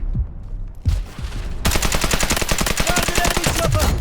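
Rapid automatic fire from the MK gun in the video game Delta Force: Hawk Ops, a loud, dense burst of repeated shots lasting several seconds after a quieter lead-in.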